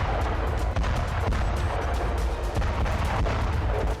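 Rapid, continuous blasts and cracks of explosions and gunfire rumble on without pause, loud and dense, like a barrage going off nearby, from scattered bombs in a missile strike.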